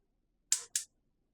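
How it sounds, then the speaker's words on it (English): Two quick, sharp clicks close together, like a stove knob being turned and its igniter catching, with silence before and after. "Now turn on the stove."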